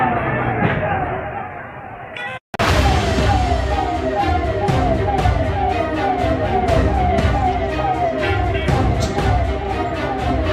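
An ambulance siren in Shivamogga, Karnataka, carrying a body under heavy police security during unrest, wails continuously and loud amid crowd noise, with a voice speaking over it.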